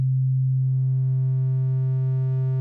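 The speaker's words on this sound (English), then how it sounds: "So starting with the sine wave." A pure sine wave test tone holds one steady pitch, loud and continuous with no other sound. A faint ladder of weaker tones builds above it.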